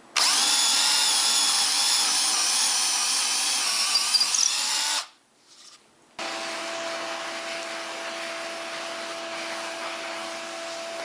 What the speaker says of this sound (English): this I'll drill all the way through to the bottom of the workbench top